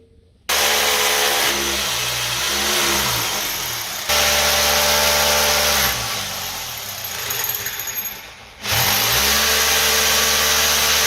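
An electric drill bores holes into a ceiling during a dry ceiling system installation. The motor whines loudly in long, steady runs that spin up and cut off between holes.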